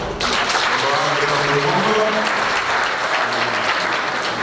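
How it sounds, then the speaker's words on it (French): Loud, dense applause from a large crowd, steady and sustained throughout, with a murmur of voices beneath. "je vous demande de l'applaudir très très fort"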